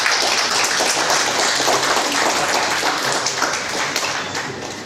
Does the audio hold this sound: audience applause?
yes